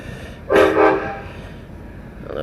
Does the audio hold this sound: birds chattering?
no